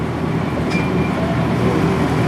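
The Gatorland Express miniature train rolls along with a steady, close rumble and clatter of its cars, an unbroken mechanical drone with no pauses.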